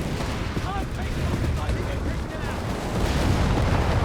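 Artillery barrages rumble and crack through a Company of Heroes 3 match, a dense continuous wash of booms and distant blasts under a caster's commentary.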